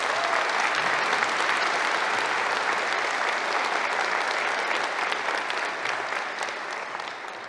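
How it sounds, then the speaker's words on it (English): Sustained applause from a large audience at a 2022 nursing school commencement at UCSF, dense clapping that holds steady and then tapers a little near the end. "So a round of applause to everyone that made it possible."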